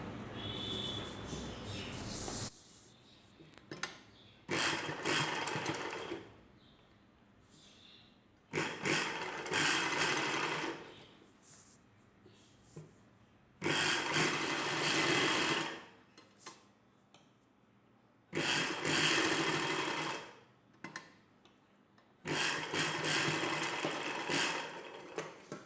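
A sewing machine stitches a dress collar in about six separate bursts of rapid whirring, each several seconds long, with quiet pauses between them.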